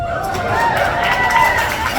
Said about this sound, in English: that's about the right level of applause for myself